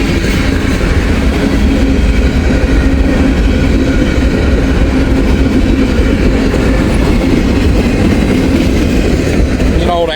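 A BNSF freight train of old grain hoppers, boxcars and mixed freight rolls past close by, a loud steady rumble with continuous clickety-clack of wheels over rail joints throughout.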